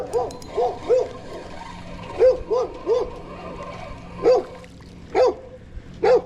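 A dog barks repeatedly in short, sharp pairs and singles, spaced irregularly, fairly close over a low background hum.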